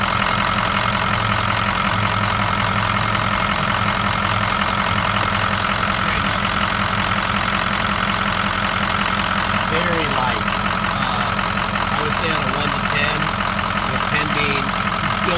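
A 2004 Ford F350 King Ranch 4x4 idles with its oil cap removed, giving a steady, close engine drone with an even, knocking rhythm that continues unbroken for the full length.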